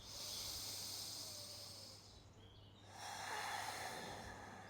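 Slow, deep yoga breaths, one long airy exhale followed by a fresh inhale, sound soft and close with no talking.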